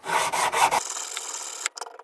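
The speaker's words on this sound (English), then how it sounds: "Now I'm going to go over it with a sanding block just to finish it up a little bit." A sanding block rubs back and forth along a wooden box ukulele fretboard, with a few close, rasping strokes followed by lighter, scattered scraping.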